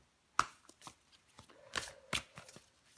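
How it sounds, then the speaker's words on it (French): Tarot cards being shuffled and drawn up close: a series of quiet, sharp flicks and papery snaps, irregularly spaced, over near silence with no talking. "je prends encore une carte"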